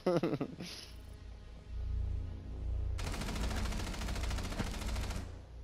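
Rapid automatic gunfire in the Rainbow Six video game, a dense sustained burst over the second half after sharper shots at the start, loud against a faint background.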